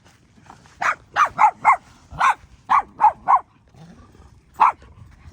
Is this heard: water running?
no